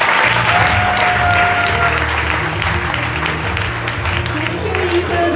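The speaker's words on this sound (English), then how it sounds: "Please give him a round of applause." Sustained audience applause fills the room at a weight-management testimonial event, a dense, steady wash of clapping that stays loud throughout with a low hum beneath it.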